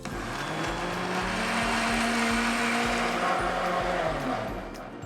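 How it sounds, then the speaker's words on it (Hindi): A mixer grinder blends chunks of watermelon into juice, a loud, continuous high-speed whir that runs steadily from start to finish. "वाटरमेलन गया जी सीधा मिक्सर ग्राइंडर में।"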